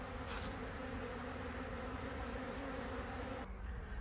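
Honeybees buzz around a Paynes poly hive in the evening, a steady close hum from a clump of bees that holds unbroken until it drops away near the end.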